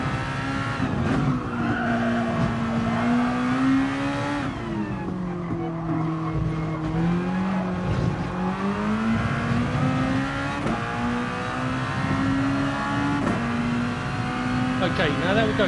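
Race car engine in a racing video game at the Barcelona circuit, a loud continuous drone that dips and rises with throttle, with tire skids and someone talking over it throughout.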